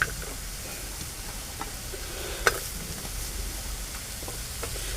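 Chopped pointed gourd (parwal) cooking in a pan, giving a steady soft sizzle with occasional light stirring scrapes and one sharp clink midway, with no voices.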